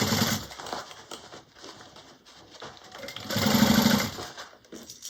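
A sewing machine stitches a Nola bag in several bursts of rapid mechanical whirring, the longest and loudest run coming near the end after shorter stop-start passes.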